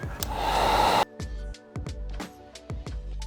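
A heat gun blows a steady, loud airy rush onto vinyl chrome delete film on a 2023-2026 Cadillac LYRIQ front bezel, running for about a second before cutting off, followed by several short sharp taps and handling knocks.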